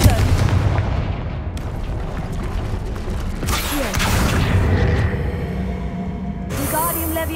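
Repeated Confringo blasting spells from the Hogwarts Legacy video game burst out in quick, booming explosions over a steady, dense bed of game noise, with a sharp crackling burst near the end.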